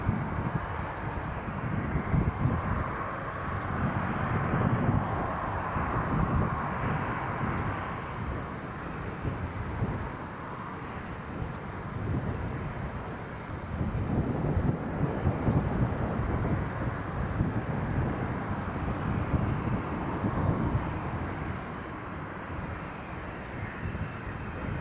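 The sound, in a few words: Galaxy aircraft flying at Newcastle airport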